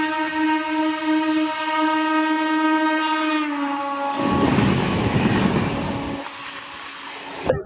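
The Digha to Howrah local train sounds a long, loud, sustained horn, then the rushing rumble of the moving train takes over, with a brief break near the end.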